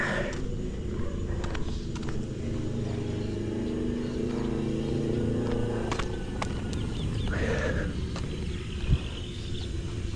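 A vehicle with a weak battery running after being push-started, a low steady engine rumble throughout with some clatter and rustling nearby, fairly close, with no clear talking.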